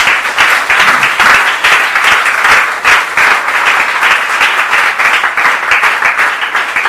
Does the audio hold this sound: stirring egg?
no